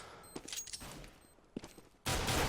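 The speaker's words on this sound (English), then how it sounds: "Spitfire at close range with the Glock, finds 2 headshots, Pitta and Zelos both taken down" Glock pistol fire in Counter-Strike during a close-range fight: a few sharp, quick shots early on, followed by a burst of dense noise at the end, with no talking.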